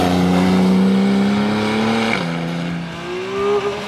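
A TechArt-tuned Porsche 911 (991) engine rumbles and revs through a sports exhaust with a deep note, pitch holding steady then dipping and climbing again, loud and close.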